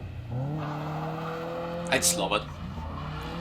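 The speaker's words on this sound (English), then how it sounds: "my last video of myself driving the MX-5" A Mazda MX-5 drives with a steady engine drone, then tires squeal briefly mid-way through a skid, all under a person talking over the top.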